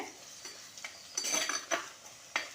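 Onions sauté in a pan for a Tamil sankara fish curry, with a faint sizzle under a few scraping stirs and light clinks of a spoon against the pan.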